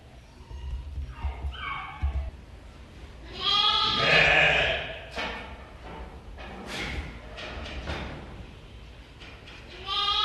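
Karayaka sheep bleat several times at a university breeding facility, with a loud cluster of calls near the middle and softer scattered bleats before and after, mixed with faint farmyard thumps.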